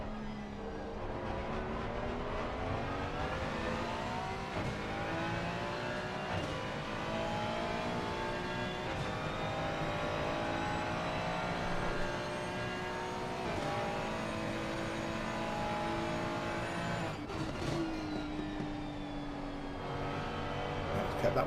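Race car engine lapping Suzuka in a sim racing game, droning steadily with rising and falling revs through gear changes, commentary voice running over it throughout.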